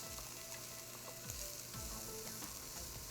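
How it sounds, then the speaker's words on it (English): Chopped onion sizzles in heated olive oil in a frying pan, a dense continuous crackle and hiss close up, with faint scraping touches of stirring and no voices. "So in my frying pan, I'm going to add the olive oil and heat it up for 2 minutes. And now I'm starting with my onion."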